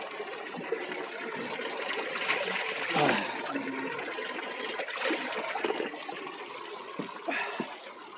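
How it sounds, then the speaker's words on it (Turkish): Water trickles and splashes as hands are washed at an old carved-stone fountain, a soft steady flow with brief splashes and someone speaking over it. "Şöyle elimizi bir daha yıkayalım."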